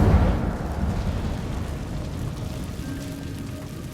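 The Incendio fire spell is cast in Hogwarts Legacy. It opens with a sudden whooshing burst of flame that then fades into a softer, crackling rumble. No one speaks.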